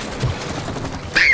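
Rapid gunfire bursts in the co-op video game It Takes Two, a steady crackling volley that swells louder near the end with a rising whine.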